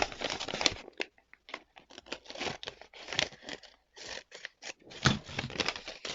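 Scissors cut through dress fabric pattern pieces in a series of close, crisp snips and slides with rustling cloth between cuts, steady and uneven in rhythm with no voices.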